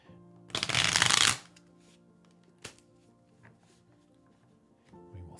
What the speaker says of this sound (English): So as I shuffle,